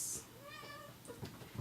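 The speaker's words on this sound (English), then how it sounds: "Sorry, that was my cat." A pet cat meows close by in a quiet room, a short rising cry followed by a softer second call.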